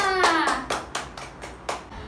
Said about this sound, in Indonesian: Tepuk tangan untuk Malona